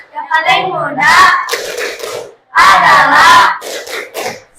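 A class of children performs the rhythmic clapping chant tepuk sedekah, loud group voices shouting in unison with bursts of hand claps, two strong phrases separated by a brief pause.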